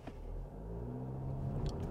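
A VW Passat Alltrack 2.0 TDI EVO 4MOTION diesel accelerates hard up a slippery snowy hill, its engine a steady low rumble that grows slightly louder through the short clip with no talking.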